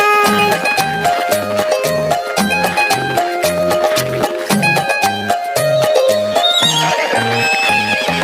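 A horse neighs and hooves clip-clop to a bouncy beat inside a Hindi children's song about a horse and mare racing, the whinnies and rhythmic hoofbeats loud and up front over the music.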